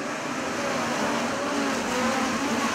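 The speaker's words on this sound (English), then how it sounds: "Brady Bacon, top five, back to green." USAC midget race cars on a speedway accelerating together on a restart, a dense, loud engine roar that holds steady and swells slightly over a few seconds.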